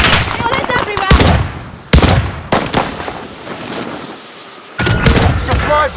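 Call of Duty: Modern Warfare gunfire erupts in loud, dense automatic bursts, broken by short pauses and a quieter stretch before another heavy volley, with a voice speaking over the shooting.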